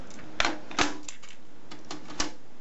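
A BASF type 2 chrome cassette tape handled and pushed into a cassette deck, giving several distinct close plastic clicks and clacks spaced irregularly over a couple of seconds.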